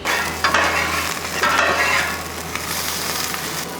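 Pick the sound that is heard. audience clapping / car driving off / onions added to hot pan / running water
onions added to hot pan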